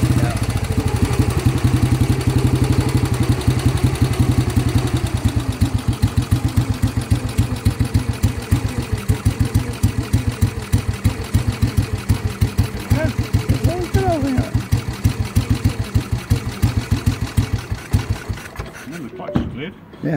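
A 1960 Norton Model 50 350cc single-cylinder motorcycle runs nearby with a rapid, even thumping beat. It stays loud and close, eases slightly toward the end, and cuts off abruptly, with people talking briefly over it.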